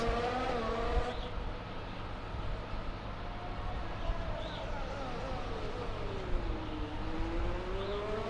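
Mercedes Formula 1 car in F1 2020 at the Azerbaijan Grand Prix, engine droning steadily and rising in pitch as it accelerates, continuous and close.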